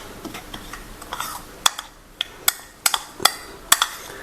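A spoon mixes chili powder and salt into a stuffing masala for stuffed ivy gourd stir fry, tapping and scraping the bowl in a quick, fairly regular run of light clinks close by.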